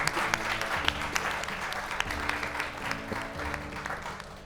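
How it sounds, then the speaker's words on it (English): An audience claps together in a steady round of applause after an interior design panel discussion, fairly soft and sustained, with faint background music tones underneath. "a round of applause"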